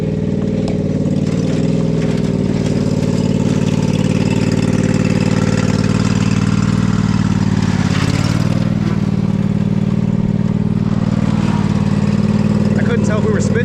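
A vehicle engine runs at a steady, loud idle with slight swells in speed, a continuous close rumble that fills the whole stretch while a voice talks faintly underneath.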